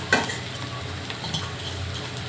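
Keema being stirred in a pan on the stove, a soft steady sizzle of frying mince with occasional scraping of the spoon against the pan, close and fairly quiet.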